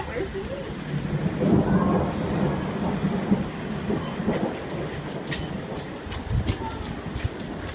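A heavy rainstorm pours steadily and close, with a dense hiss of rain on surfaces and low rumbles of thunder rolling underneath, while faint voices murmur in the background.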